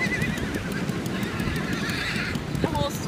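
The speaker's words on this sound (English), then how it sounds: "The horse is going crazy." A horse neighs in a long, shrill whinny over steady background noise and nearby voices, with a short snort near the end.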